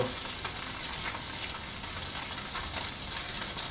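Slightly burnt bologna fries in a pan, giving a steady, dense sizzle and crackle with no voices over it.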